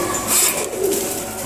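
A pigeon in a pigeon shop in Rampura, Dhaka gives a single soft, throaty coo, close and clear over quiet background murmur.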